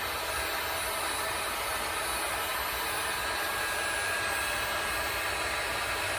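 Heat gun running on high heat, a loud, steady broadband blowing roar that stays constant and unbroken throughout, close up and with no talking.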